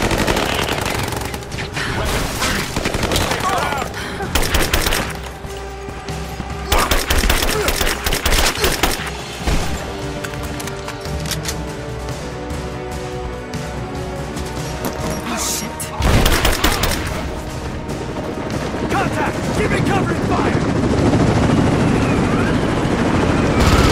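Gunfire in the game Rise of the Tomb Raider, loud bursts and volleys of rapid shots with crashes over a constant whirring helicopter-like drone, lasting about twenty seconds.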